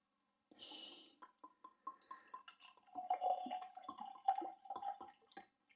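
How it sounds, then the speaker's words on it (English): Fireball cinnamon Canadian whisky glugs out of a bottle, a brief splash followed by a run of gurgling pours and drips, close and fairly quiet with no talking. "So I'll try and pour this without squeezing the bottle out and getting this everywhere."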